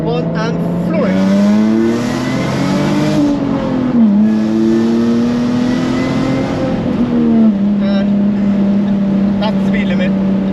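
Jaguar F-Type with a manual gearbox pulling hard at full throttle on a dual carriageway, engine note climbing steadily through the gears with brief dips at each shift, loud and continuous with wind noise around it.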